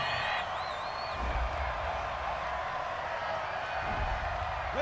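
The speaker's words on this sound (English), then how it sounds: "Well, the crowd doesn't like that." A football stadium crowd at a Saints vs. Cardinals NFL game reacts to a penalty flag on third down, a steady, dense roar of many voices that holds loud throughout.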